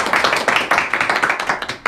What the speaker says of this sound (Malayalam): ഓക്കെ, കൈയടിക്കാം.